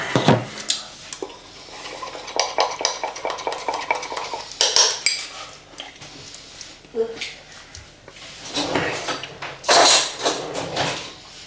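A spoon stirs cream of rice in a metal pot, giving repeated scraping and clinking strokes with occasional louder knocks against the pot. A person talks throughout the stirring.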